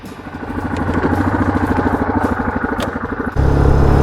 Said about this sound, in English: All right, so we're heading out. 2020 Yamaha Kodiak 450 EPS Special Edition.